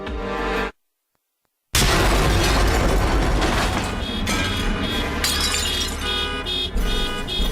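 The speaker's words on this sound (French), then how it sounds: "une explosion assourdissante secoue le parking" A deafening bomb blast tears through a parking lot late in the evening as guests return to their cars. It bursts in suddenly after a second of silence, and a loud, sustained roar with shattering debris follows.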